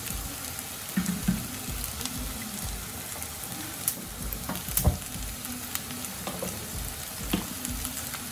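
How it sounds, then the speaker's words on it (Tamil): Egg fried rice sizzles steadily in hot oil in a pan, a continuous crackling fry with occasional scrape and stir clicks, close and moderately loud, no voices. "நல்லா அந்த ஆயிலில் 1 மினிட்டுக்கு ஃப்ரை ஆகணும்"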